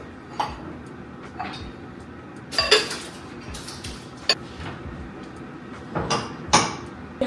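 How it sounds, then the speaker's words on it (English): Ceramic dishes being handled and put away, with sparse clinks and knocks scattered among quieter rustling, sharper clatters near the middle and end, fairly close and moderately quiet, no talking. "I have some dishes that we like very rarely use."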